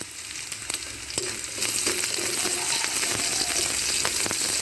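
Nigella seeds (kalo jira) fry with onion and garlic in a pan for a masoor dal, a close crackling sizzle with small stirring clicks that grows louder and steadier after the first second and a half.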